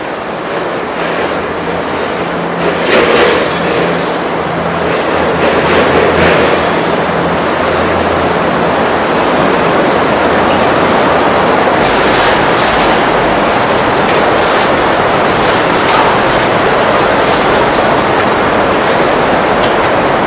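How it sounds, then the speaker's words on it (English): A heavy steel train trundles by on a railway line carried on big timbers above an underground river tunnel, producing a loud, continuous, broadband rumble that swells at moments and persists for the full twenty seconds. "every so often a great heavy steel train trundles by"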